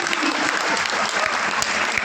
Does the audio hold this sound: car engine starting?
no